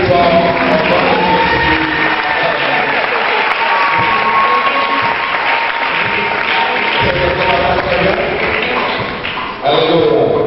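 A church congregation applauds steadily to acclaim God, dense clapping filling the room nonstop for about ten seconds, with scattered voices and cheers mixed in.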